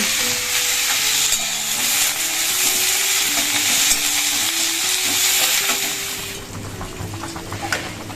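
Spice paste being sautéed and stirred in a pan produces a loud, steady sizzle, with scraping strokes running throughout. A faint tonal hum sits underneath.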